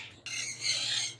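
Breeder birds in a bird shop, a brief nearby harsh squawking call, shrill and sustained for about a second, with no talk.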